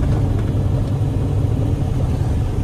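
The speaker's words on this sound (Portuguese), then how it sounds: "Ficou um ronco gostoso também, a performance do escape é legal." Steady, dense exhaust rumble from a fuel-injected VW Fusca with a 2.0 gasoline engine running a FuelTech FT450 system, a continuous low throaty drone heard close and loud throughout with no talk.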